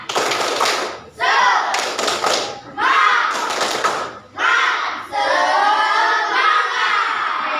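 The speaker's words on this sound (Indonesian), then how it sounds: "Coba dulu tepuk semangat." A classroom of children performing a rhythmic spirit clap, bursts of loud, patterned clapping mixed with chanted, sung-out voices in short phrases, close and energetic.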